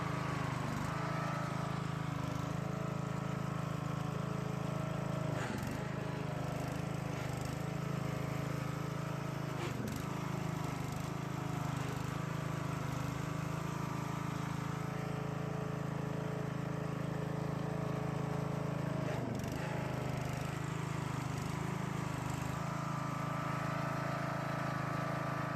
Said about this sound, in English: let's get on the mower and try to go in reverse